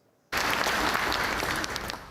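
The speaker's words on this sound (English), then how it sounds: "Family and friends clapping and cheering." Family and friends clapping and cheering at a graduation for new doctors, dentists and pharmacists, a sudden burst of dense applause from a large crowd after a moment of near silence, holding steady and then easing slightly.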